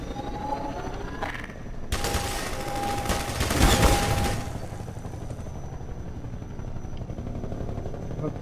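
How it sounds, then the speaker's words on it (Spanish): A helicopter attacks with gunfire in Half-Life 2: a loud burst of rapid gunfire lasting about three seconds, over a constant rotor drone that carries on alone afterwards, with a player talking now and then. "El puto helicóptero, tío."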